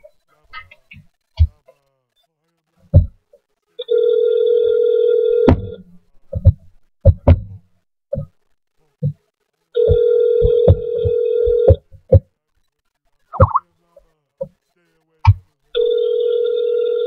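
A phone rings out while calling someone named Bree, three evenly spaced ringback tones with silent gaps between them, interspersed with short bursts of talk and small handling sounds.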